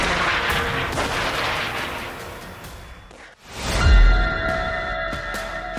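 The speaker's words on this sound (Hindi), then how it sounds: "जोरदार धमाके साफ देखे जा सकते हैं।" Heavy blasts from Hezbollah Burkan missile strikes, a dense roar of explosive noise followed by a sharp, deep boom that punches through before fading into lingering rumble.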